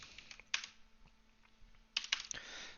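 Quick bursts of computer keyboard typing while code is entered into an editor, crisp close clicks in two short clusters separated by a pause, no voices.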